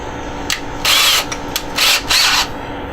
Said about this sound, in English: just going to get our drill bit that matches the size of that flange, so we can put it right through